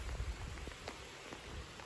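Rain falls steadily during a squall line, a faint soft patter with scattered drops and no voices.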